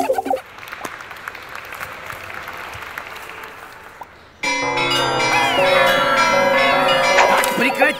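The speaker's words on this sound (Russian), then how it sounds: "Сыграю вам на карильоне." Carillon of many bells played in a cathedral tower, a quiet cheering crowd giving way abruptly to a loud, ringing cascade of bell tones that sustains and overlaps.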